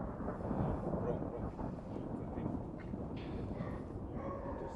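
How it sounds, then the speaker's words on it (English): Thunder from a passing storm rolls as a low, continuous rumble at moderate distance, sustained without sharp cracks. "thunder."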